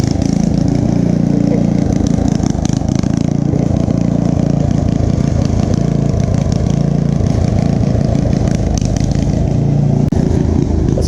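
A Ford lawn tractor engine runs continuously at close range, a loud, steady putt-putting idle with a rapid pulsing rhythm throughout.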